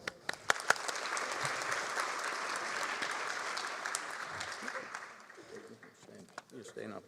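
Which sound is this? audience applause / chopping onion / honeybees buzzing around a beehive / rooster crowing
audience applause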